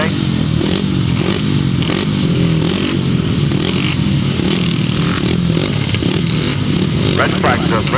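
350cc solo grasstrack motorcycles roar together on the start line at a 2006 Bewdley grasstrack meeting, a loud dense buzzing engine drone throughout, with a voice talking over it.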